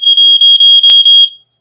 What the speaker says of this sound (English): The smoke alarm.